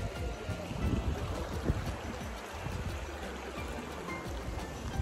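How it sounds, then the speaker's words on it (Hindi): A river flows through a valley in Ladakh's Nubra region, a steady broadband rush of water heard close and continuous, mixed with wind buffeting and a faint high whine throughout. "यहाँ से नदी जा रही है"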